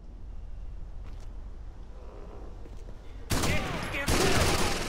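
Sudden loud burst of rapid gunfire in Rainbow Six Vegas Terrorist Hunt erupts after quiet ambient noise, continuing as a dense, sustained volley of shotgun and machine gun fire to the end.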